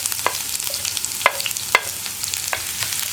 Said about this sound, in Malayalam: ഇതിലേക്ക് നമുക്ക് നമ്മൾ കട്ട് ചെയ്ത് വെച്ചിരിക്കുന്ന സവോള ചേർത്ത് കൊടുക്കാം